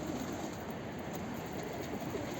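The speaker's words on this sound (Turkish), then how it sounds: "bir kuşları uçurmak için geldim ama uçurabiliriz gibime geliyor" Pigeons cooing outdoors on a clear day after snowfall, soft murmuring calls over steady open-air background noise, no voices heard.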